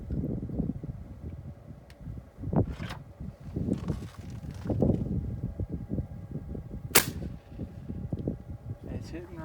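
A Gamo Varmint Hunter air rifle is fired outdoors, with a sharp crack standing out among wind buffeting and handling noise, and someone speaking briefly.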